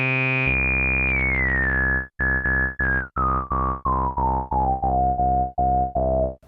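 Modal Cobalt5s synthesizer plays a smooth, bright tone: a sustained note, then a series of short repeated notes stepping gradually downward in pitch, clean and steady, alone without voices.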